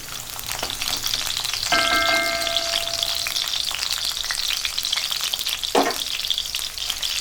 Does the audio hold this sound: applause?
no